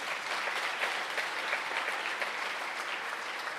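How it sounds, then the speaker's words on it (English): An audience at a Yom Hazikaron and Yom Ha'atzmaut memorial event applauds for soldiers and their families, a dense, even wash of many hands clapping throughout, fairly distant and sustained without pause. "We should be clapping for all the soldiers and the families"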